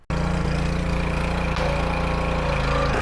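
A 1989 supercharged Toyota MR2 engine fires up after a brief crank and settles into a steady, loud idle recorded right beside the exhaust, with an even, throbbing hum.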